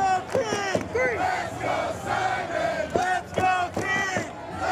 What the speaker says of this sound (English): the title on the line, and the crowd obviously behind the Emerald Emperor.